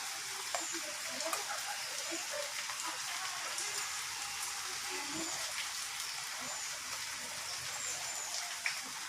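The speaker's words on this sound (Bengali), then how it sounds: "আবার শুরু হয়ে গেল আবার বৃষ্টি।" Steady rain patters on surfaces outdoors, a dense continuous hiss with scattered louder drops, heard alone without talk.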